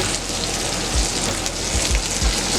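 Steaks basted with garlic butter sizzling on a steel grill, a loud, steady crackling hiss with scattered pops and low thumps, close and continuous with no talking.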